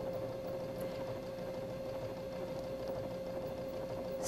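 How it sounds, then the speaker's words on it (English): Baby Lock Esante sewing machine running a faggoting stitch down an open gap between fabric edges on dissolving stabilizer, a steady close mechanical whir with a constant hum and no pauses. "Sew the faggoting stitch down the center of the open space"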